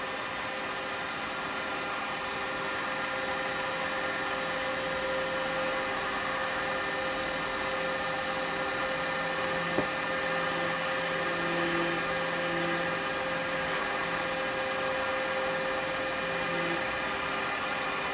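A steady, droning whir of a wood lathe spinning with a foam sanding pad sanding the turned wood, continuous and fairly loud, with a faint tick partway through.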